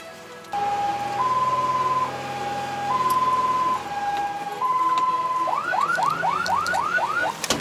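An ambulance siren on a Poznań emergency call wails loud and close, first as a slow two-tone hi-lo alternation, then switching to a rapid rising yelp for the last couple of seconds.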